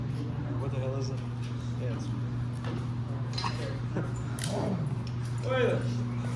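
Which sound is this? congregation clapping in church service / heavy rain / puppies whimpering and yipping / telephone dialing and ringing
puppies whimpering and yipping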